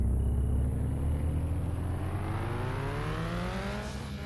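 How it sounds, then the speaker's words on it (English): A car drives in the Somnium Space virtual reality game, its steady engine drone rising gradually in pitch as it accelerates, fairly quiet and uninterrupted. "We're literally driving a car."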